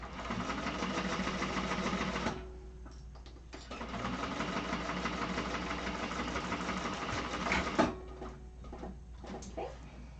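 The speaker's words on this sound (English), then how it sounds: "my machine is trying to eat my cotton because it's not super thick" An industrial sewing machine stitching cotton fabric with no heavy interfacing runs in a steady close mechanical whir, pausing briefly about two seconds in before resuming, then stopping with a few faint clicks near the end.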